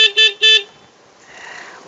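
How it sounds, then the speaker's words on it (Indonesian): Two short honks from the new horn of a Suzuki A100 motorcycle, loud and close, followed by quiet background. "yang baru dari A100 ini salah satunya lagi adalah untuk horn atau klakson ya"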